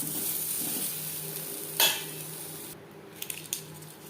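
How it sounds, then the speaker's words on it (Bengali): Whole cumin seeds and a torn bay leaf sizzle softly in hot oil in a pan, with a faint steady crackle. A spoon or utensil clinks a few times against the pan. "ফোড়নে দিয়ে দিলাম 1/2 চামচ গোটা জিরে, একটা তেজপাতা"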